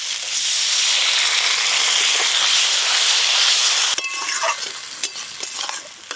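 Water goes into a pan of spicy crab and fried eggplant curry, and a loud, steady sizzle and hiss follows. It breaks off into softer bubbling, stirring and scattered pops.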